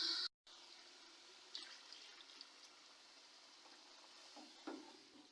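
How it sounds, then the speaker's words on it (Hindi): Water poured into a pot of mutton and arvi (taro root) curry, a steady sizzling, bubbling wash of liquid that stays moderately quiet after a brief opening cut, with a few soft clinks along the way. "अभी मैं इसमें और डालती हूँ पानी।"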